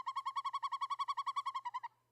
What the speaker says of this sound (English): Owls- just hooting,